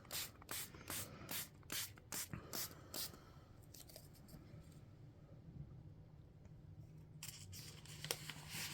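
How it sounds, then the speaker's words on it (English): Repeated short hissing bursts of spray paint onto a paper stencil during coffee-dyed paper crafting, about nine quick spurts in a steady rhythm, then a quieter stretch of faint rustling before a few more sprays near the end. "Now you do want to get spray evenly on the outside of your stencil"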